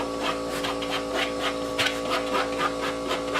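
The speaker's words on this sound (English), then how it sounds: "I'll probably scuff it up anyway with some sandpaper." Sandpaper scuffing the surface of an air box, a steady, close series of rhythmic rubbing strokes, moderately loud, with no talking.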